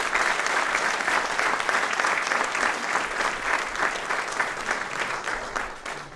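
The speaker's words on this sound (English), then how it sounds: "Please give them a huge round of applause." Steady, dense applause from a large audience at a university convocation ceremony, loud and sustained throughout before tapering slightly at the end.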